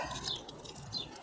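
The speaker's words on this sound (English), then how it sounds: "Those birds are noisy, aren't they? Tweet, tweet, tweet." Faint bird chirps come through a quiet outdoor background, a couple of brief high tweets standing out from the steady hiss.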